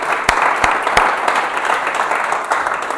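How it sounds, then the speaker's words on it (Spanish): A church congregation at a men's congress gathering breaks into dense, sustained applause, a steady wash of many hands punctuated by a few sharp individual claps. "denle un fuerte aplauso al Señor"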